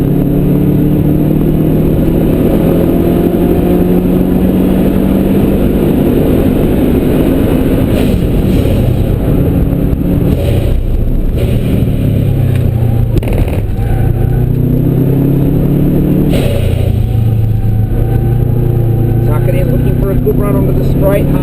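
A Subaru Forester S MRT engine is held under hard throttle on a race track, its loud rising drone climbing in pitch and dropping back at each gear change, with a voice talking over the engine throughout.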